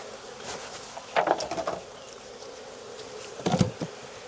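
Honey bees buzz around an open hive in Jacksonville, Florida, a soft droning hum with a few louder passes of bees flying close by, heard alone without talk.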